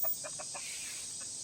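Backyard chickens cluck in a quick run of four short calls, then one more after a pause, nearby over a steady hiss of outdoor background.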